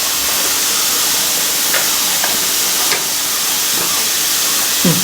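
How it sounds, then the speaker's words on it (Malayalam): Steam rushes from a puttu cooker filled with water on high flame, a loud steady hiss with faint clinks and small bumps now and then. "അതാ മേലേക്ക് നന്നായിട്ട് ആവി വരാൻ തുടങ്ങി"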